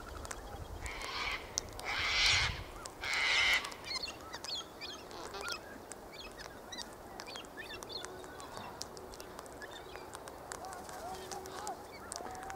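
Indian ringneck parakeet calling outdoors near power lines, three loud harsh screeches in quick succession early on, followed by softer scattered chirps and background birds.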